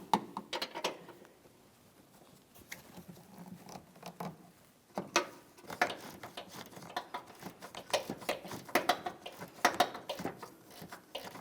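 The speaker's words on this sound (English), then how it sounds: "I'm going to do this with a ratcheting wrench once I break it free with my 13mm" A ratcheting wrench working 13mm strut hardware on a Ford Edge, quick clicking ratchet strokes in irregular bursts with metallic handling noises between, close up and without talk.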